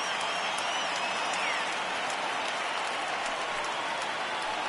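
A stadium crowd of over 38,000 roars in a baseball video game, a constant, even wash of cheering at moderate level for the whole stretch, with a few faint high whistles over it.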